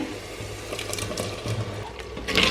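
Cooked raw banana and yam with their cooking water poured into a pan of kalan, giving a close, bubbling liquid splash with some clatter, growing louder at the end.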